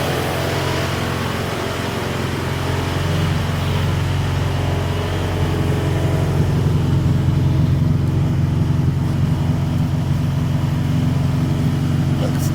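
An idling Honda Del Sol EK with a double-tip exhaust gives a steady low engine drone, rising slightly in a mild rev toward the end, heard close and fairly loud with no voices over it.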